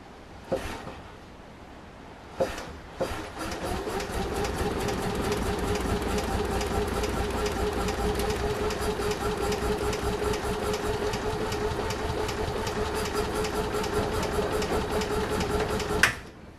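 Small engine of an Invacar invalid carriage with the choke on, starting after a few cranking bursts and then idling at a fast, even chatter for about thirteen seconds before cutting off, close and steady with no talking.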